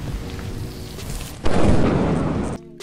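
A rumbling thunder-like lightning strike from the video game Lethal Company bursts in over steady background noise, holding loud for about a second before cutting off abruptly, with no voices.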